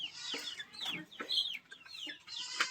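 Free-range desi village chickens on a Maharashtra poultry farm cluck in the evening, a quick run of bright, close calls in an otherwise quiet yard.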